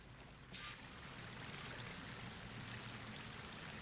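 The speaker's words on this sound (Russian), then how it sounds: "Тот водопад выливает." Steady rushing water from a waterfall in the video game Horizon Forbidden West, a continuous broadband wash that starts faintly and swells after a moment, then holds at an even, moderate level with no voices.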